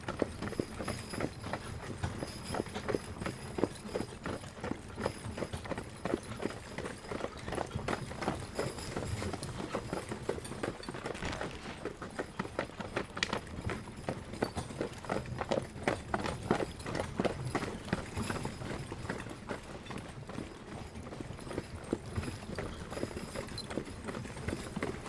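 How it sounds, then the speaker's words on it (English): A team of Percheron draft horses trots uphill pulling a wagon, with steady, rhythmic hoof clip-clops and harness rattle throughout at moderate volume. "So we're gonna trot up this hill."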